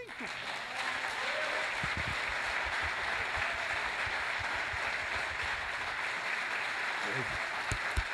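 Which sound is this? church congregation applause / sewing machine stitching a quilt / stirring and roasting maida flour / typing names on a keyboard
church congregation applause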